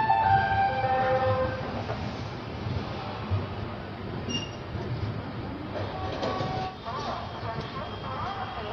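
The Banaras–Lokmanya Tilak Terminus Express rolls along a curve in the early morning, opening with a short horn sound over a steady low rumble of wheels. Faint voices mix in with the rail noise.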